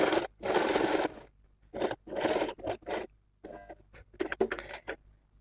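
Short bursts of a sewing machine stitching the neckline of a co-ord set, with rapid clattering runs separated by pauses and quieter handling of the fabric in between.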